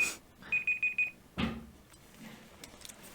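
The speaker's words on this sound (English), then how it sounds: "the timer will ring" A painting timer rings in a quick burst of four sharp electronic beeps, followed by a single thud and faint rustling in a quiet room.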